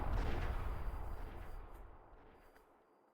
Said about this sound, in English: The sound of gunfire rang out,